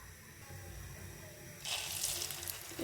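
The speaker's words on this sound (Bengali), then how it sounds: "এখন এগুলোকে আমি গোল্ডেন ব্রাউন করে ভেজে পরিবেশন করে নিচ্ছি" Egg-dipped bread slices frying in oil in a pan: a faint low sizzle thickens into a brighter, steady crackle partway through, quiet and close.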